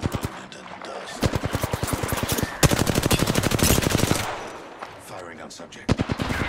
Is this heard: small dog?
no